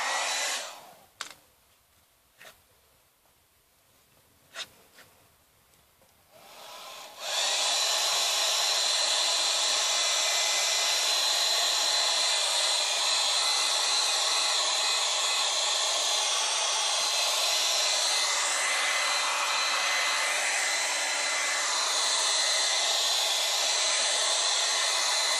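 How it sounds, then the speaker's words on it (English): An 1875 watt Revlon hair dryer, used to warm a headlight during restoration, starts after a few quiet clicks and then roars in a steady, loud, continuous blowing hiss, close by and alone. "I use a simple 1875 watt Revlon hair dryer is all I'm using."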